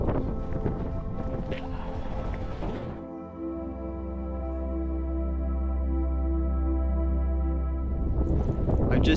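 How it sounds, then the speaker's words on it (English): Fierce wind on the Ben Nevis summit after climbing the CMD Arête route, loudly buffeting the microphone in roaring gusts at the start and end, with a steady low droning hum filling the stretch between. "The wind was getting really fierce up there."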